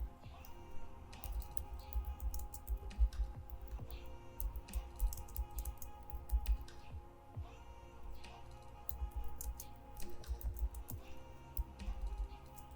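Fingers tap on a computer keyboard in quick, irregular bursts of soft clicks. It is faint and fairly close, with short pauses between runs of keystrokes.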